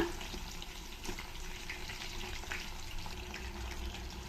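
Brinjal (eggplant) frying in oil for a Karnataka-style stuffed ennegai dish, a crackling sizzle with scattered pops and a few soft clinks, close up and continuous with no speaking.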